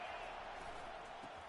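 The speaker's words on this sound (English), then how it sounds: "Decibels rising as the crowd gets behind this defense on third down." Steady broad roar of a football stadium crowd during a Kentucky third-down defensive stand, a dense, sustained wash of noise with no distinct individual voices.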